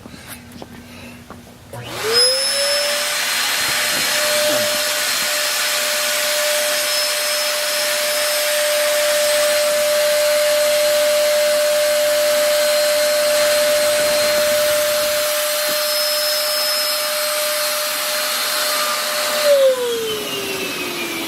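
An electric air pump inflates an inflatable arch. It spins up, holds one steady loud whine with broadband rush for about seventeen seconds, then winds down at the end.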